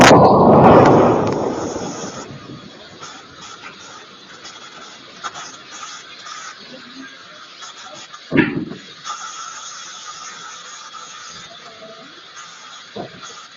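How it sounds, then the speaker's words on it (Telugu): An industrial factory explosion picked up by a CCTV camera at a neighbouring timber depot: a loud, rumbling boom that decays over two seconds, followed by a distant low ambience and a few faint later thuds. "సరిగ్గా ఉదయం 9:27 భారీ శబ్దంతో పరిశ్రమలో పేలుడు సంభవించింది."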